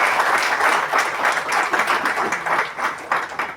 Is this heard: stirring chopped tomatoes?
no